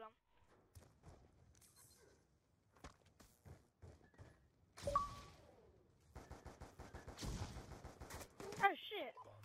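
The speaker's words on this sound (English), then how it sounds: "They're all shooting at you, bro." Gunfire in an online clan war shooter game, scattered shots and bursts with footstep-like thuds under excited players talking over voice chat.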